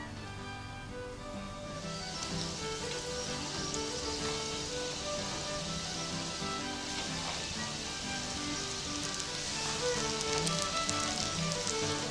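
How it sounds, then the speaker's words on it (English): Potato balls fry in hot, lightly smoking fat, giving a steady, fairly faint crackling sizzle like rain that swells after a couple of seconds and holds. "we'll start frying these up quite directly"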